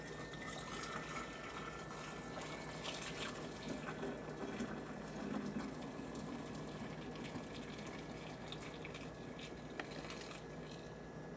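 Hot beer wort poured into a container at a kitchen sink, a continuous rushing, gushing stream of liquid filling the vessel, steady and close throughout with no speech.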